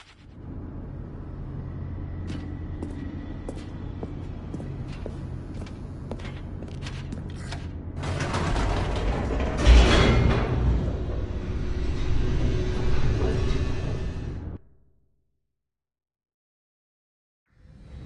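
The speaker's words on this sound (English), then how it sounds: "The elevator raced downward" Elevator plunging downward in the video game Stanley Parable: a steady low mechanical rumble with faint creaks swells into a louder rushing roar with a heavy thump near the middle, then cuts to silence, with no talk.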